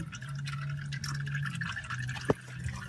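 Hot engine oil trickles from a loosened drain plug during a car oil change, a steady close pouring and dripping with one brief knock near the end.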